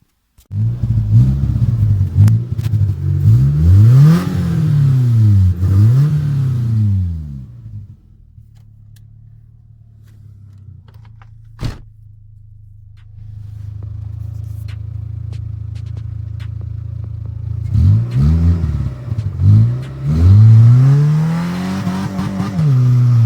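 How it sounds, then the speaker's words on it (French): A vehicle with worn tyres revs hard as the wheels spin in a muddy field, loud rising and falling engine surges with a steadier lower rumble in the middle stretch. "il n'y a pas besoin de grand chose pour que ça patine. Donc je vais fondre un peu les pneus"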